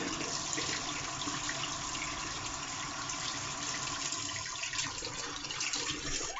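Water being poured to soak a tiny Japanese natural sharpening stone, a steady faint rushing and splashing wash that continues without pause throughout.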